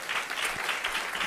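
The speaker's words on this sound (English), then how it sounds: "Please give her another round of applause." A brief burst of audience applause at a food-systems talk. Steady, dense clapping is heard throughout, with no voices over it.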